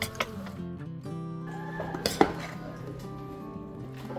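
Pork liver mix with onion leeks is stirred in a pan, metal utensils clinking and scraping against the cookware in quiet irregular taps, with a faint sizzle beneath.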